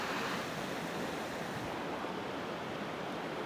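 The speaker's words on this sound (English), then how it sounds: "I don't want to be too close to the rapids" Rapids in a river in the North Cascades rush in a steady, dense roar that holds at even loudness from start to finish, close by and with no voices over it.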